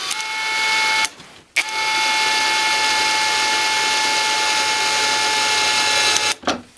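A ProCraft brushless cordless drill drives a screw in loud close bursts of high motor whine. A short pause breaks the first burst, then a long steady run follows, ending with a brief final spin.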